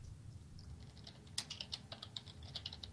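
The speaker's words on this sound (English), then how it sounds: "someone's typing" Someone typing on a computer keyboard, a quiet patter of key clicks in short irregular bursts over low background hum, faint and distant.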